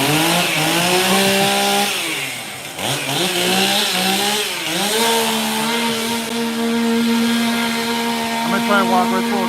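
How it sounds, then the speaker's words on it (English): Milwaukee dual battery chainsaw whirring at a trade show, its motor pitch rising and dipping as it runs near and loud, with a busy crowd in the background. "This is the new Milwaukee dual battery chainsaw right here."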